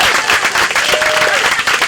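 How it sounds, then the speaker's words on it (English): Applause from an outdoor crowd at the inauguration of the Bourgoin Park splash pad, after the mayor's introduction: dense, steady clapping from many hands, loud and close, with a few faint voices underneath. "How about another round of applause for our girl on the cake?"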